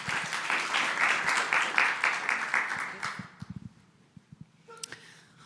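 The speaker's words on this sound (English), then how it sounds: "please give Nuria a huge applause" A conference audience at the Copernicus C3S General Assembly applauds a speaker's introduction: hearty clapping for about three seconds, then thinning to a few scattered claps before a brief noise near the end.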